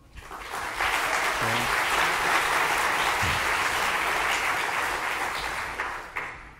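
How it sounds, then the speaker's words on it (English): An audience at a Python programming conference talk applauds steadily, a dense, even wash of clapping that rises quickly, holds for about five seconds and tapers off. "Let hear a big applause."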